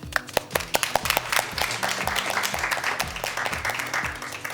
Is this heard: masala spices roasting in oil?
no